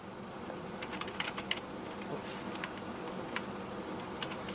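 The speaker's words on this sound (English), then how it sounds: "I'm typing in a name, Nemes." Rapid, uneven clicking of a computer keyboard as a name is typed into a genealogy program, close and steady with small bursts of keystrokes throughout.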